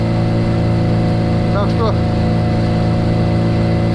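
A Japanese outboard boat motor, suspected of a fuel-pump membrane fault, runs with a steady, loud droning hum throughout while someone speaks briefly over it.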